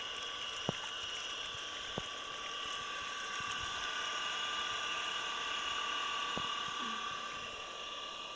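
An electric water pump motor at a home runs with a steady whine, continuous and moderately quiet, with a few faint clicks over the drone.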